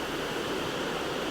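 A waterfall in the Lauterbrunnen valley gives a steady, even rushing roar, a broad wash of falling water heard continuously and fairly close with no voices over it.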